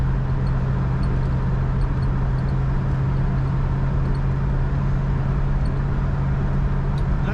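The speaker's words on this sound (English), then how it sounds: "A little bit of wind noise around that convertible top." Steady wind and road noise inside a 1968 Oldsmobile 442 convertible driving on a cool November morning in Minnesota, a constant broadband rush with a low hum and no talk.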